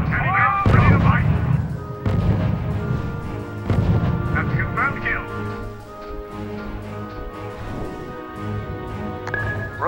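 Artillery and gunfire from the strategy video game R.U.S.E. boom and crack steadily over a layered game soundtrack, with a radio-style voice speaking over them.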